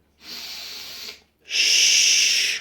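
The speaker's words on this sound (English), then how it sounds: "In through the nose, out through the mouth, through pursed lips and tongue." Two long, steady hissing exhalations, like air pushed out through pursed lips, separated by a short pause; close and moderately loud.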